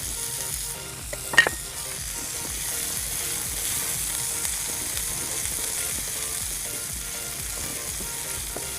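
Steady sizzling and crackling of onions frying in hot oil fills the clip, with a brief metallic clink near the start.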